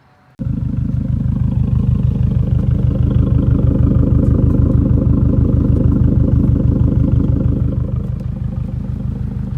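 A 2015 Subaru WRX STi fitted with a Remark catback exhaust starts up and settles into a loud, steady rumbling idle with a pulsing burble, close by and alone, easing slightly near the end.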